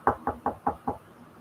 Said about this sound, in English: could get a knock at the door at any time